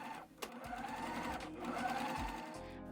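A sewing machine stitches up the side of a midi dress, a close, steady mechanical whirr with a brief pause near the start before it runs evenly again.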